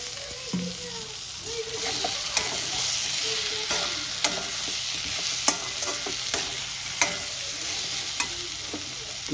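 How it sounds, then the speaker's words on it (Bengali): Potatoes and pointed gourd stir-fried in spice paste sizzle steadily in a pan, with scattered clicks and scrapes of a spatula against the metal throughout; no one speaks. "এবার আমি ভেজে রাখা আলু আর পটলটা দিয়ে কষিয়ে নেব।"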